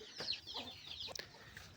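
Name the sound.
chickens clucking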